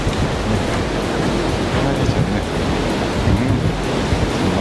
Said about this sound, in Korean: 파도만 치고 바람은 안 부니까